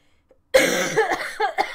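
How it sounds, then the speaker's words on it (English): A person coughs hard and close, a harsh burst followed by a few shorter rasping coughs. "There will be a bit of a coughing fit."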